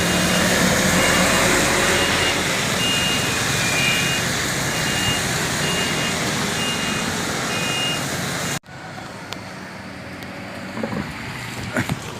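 A truck reverses with its warning beeper sounding a steady train of evenly spaced beeps over loud engine and road noise. The sound then cuts abruptly to a quieter outdoor scene with a few faint knocks.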